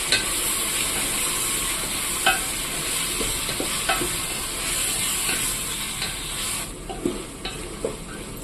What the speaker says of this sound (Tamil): தக்காளி நல்லா எண்ணெயில குழஞ்சு வெந்து வரணும்